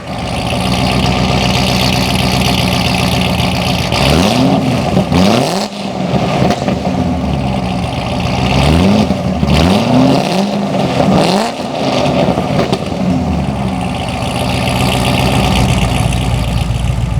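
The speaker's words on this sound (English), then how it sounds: "this is for the dual valved exhaust. So I can make it loud or I can make it quiet" A 2012 Chevrolet Corvette Grand Sport 4LT with a Lingenfelter engine and dual valved exhaust set to loud mode idles with a deep, close rumble, then revs sharply in two rising bursts before settling back to idle.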